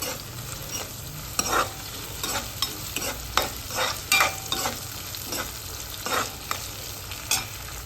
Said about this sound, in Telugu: నేను తాలింపు అయితే పెట్టేసుకున్నాను ఉల్లిపాయలు పచ్చిమిరపకాయలు అలాగే యాలకులు బగారా సామాన్లు ఉంటాయి